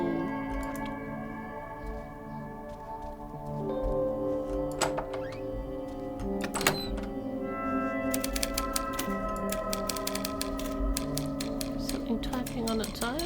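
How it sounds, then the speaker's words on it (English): Inside a video game's apartment lounge, a typewriter types by itself with bursts of rapid clacking keystrokes and occasional sharper strikes over a steady ambient hum, growing denser toward the end. "Something typing on its own."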